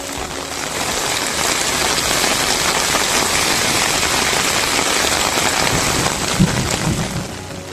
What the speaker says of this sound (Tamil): நகரின் பல பகுதிகளில் மழை கொட்டியது